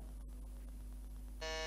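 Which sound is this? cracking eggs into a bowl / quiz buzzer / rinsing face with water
quiz buzzer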